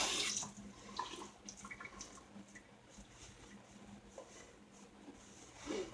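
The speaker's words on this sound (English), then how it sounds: "I'm gonna add a little more water." Water runs from a tap and splashes as a little more is added to shaving soap, a soft, steady trickle with brief louder gushes at the start and end, close by and with no talking.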